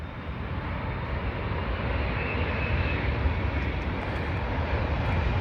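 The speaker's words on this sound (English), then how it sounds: "Another Dreamliner." A British Airways Boeing 787 Dreamliner at London Heathrow gives a steady, loud broadband jet roar that holds evenly throughout, with no voices over it.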